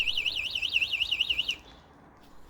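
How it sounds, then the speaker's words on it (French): The anti-theft alarm on a Dualtron Storm Limited 2024 electric scooter gives a loud, rapidly warbling electronic siren for about a second and a half, then cuts off abruptly into quiet. "l'alarme avec le coupe-circuit qui est intégré dans la trotte, connecté à la batterie"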